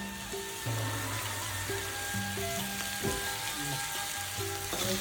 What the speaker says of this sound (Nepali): सबैको लागि चाहिँ मैले यसलाई भुट्छु। पानी सुक्नुपर्छ।